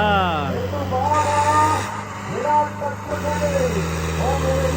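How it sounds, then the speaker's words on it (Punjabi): A Sonalika tractor engine runs with a steady low rumble and a rising whining rev early on, heard alongside loud talking voices nearby. "ਟਰੈਕਟਰ ਚੱਲ ਪਿਆ"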